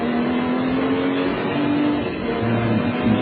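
A Lister race car in an FIA GT 2000 round at the Hungaroring roars steadily close by, its engine note holding strong with slight pitch shifts as it pulls away, with no voices.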